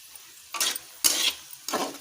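Diced potatoes for sabudana khichdi browning in a hot pan, heard as three short scraping stirs with a soft sizzle between them, close and clear with no voices.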